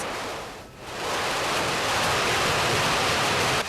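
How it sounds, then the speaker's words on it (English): Half-dollar-size hail pounds a parking lot during severe storms in Oklahoma City in May 2012, a loud, dense, continuous hissing roar that dips briefly and then swells to a steady downpour of impacts. "it is loud, and as you can see, that hail is about half dollar size"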